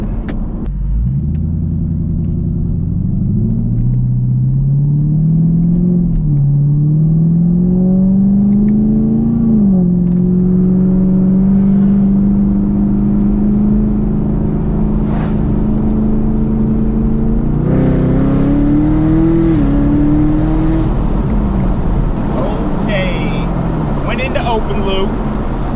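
A Procharger-supercharged car engine pulls hard on open road, its loud droning note climbing steadily in pitch with brief dips at shifts, then surging again near the end, with a voice talking over it.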